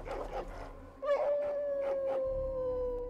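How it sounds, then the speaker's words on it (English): A dog howls in the video game Dragon Age: Origins, one long rising-then-steady wavering howl with a brief yip at the start, heard clearly over faint game background sounds. "Damn, that's a cool-ass dog."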